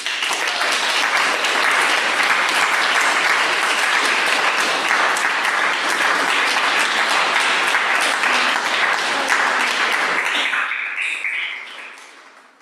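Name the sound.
audience applause after Kathryn Cowles' reading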